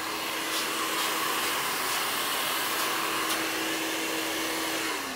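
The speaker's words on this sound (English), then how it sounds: "I'm gonna start by drying the hair pretty much all in the same direction." A hair dryer roars continuously at close range, a steady loud blowing whoosh with a faint whine underneath and no pauses.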